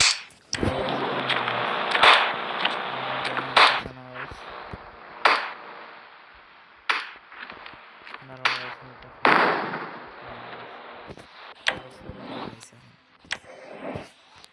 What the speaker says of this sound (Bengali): দেখো গাইস পুলিশ আমাকে গুলি করতেছে, ফায়ার করতেছে